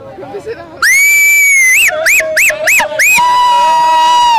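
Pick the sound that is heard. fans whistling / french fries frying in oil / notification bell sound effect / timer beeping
fans whistling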